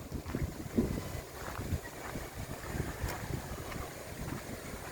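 Wind blows steadily at a rainy beach, making a low rushing roar with gusty buffeting against the microphone and a faint hint of surf.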